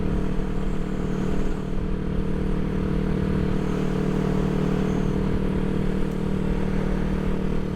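A 1975 Honda CB360T motorcycle engine drones steadily at cruising speed, a constant low hum and rattle with wind rush, no voices.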